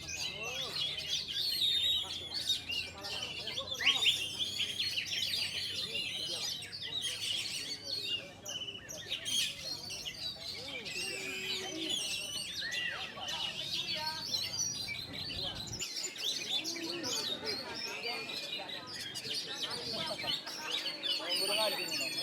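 Songbird singing at a bird-song contest hangout, a busy stream of high chirps and warbled phrases running steadily throughout, with voices and crowd murmur underneath.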